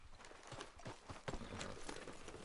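Horse hooves clip-clop at a steady walking rhythm in Red Dead Redemption 2, fairly close and continuous, with faint background ambience and no talk over them.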